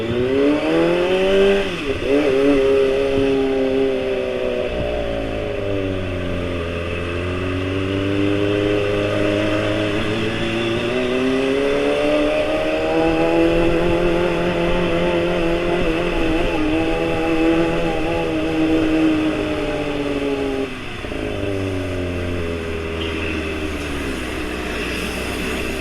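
A Kawasaki ZX-25RR motorcycle engine runs loud and close for about half a minute, its steady whine rising and falling in pitch as revs shift, with no voices.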